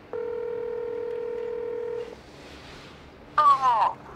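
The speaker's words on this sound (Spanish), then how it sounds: "me apetece hablar con Aleix a ver si me pilla el teléfono" Telephone dialing and call tone heard during a Mediterranean Epic mountain bike race: one long steady ringback tone, then a short pause and a brief burst of electronic tones, alone and fairly loud.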